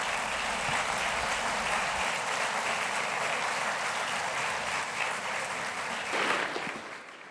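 Sustained, even applause from a symposium audience after a doctor's lecture, dense clapping at steady strength that tapers off near the end, with no talk over it.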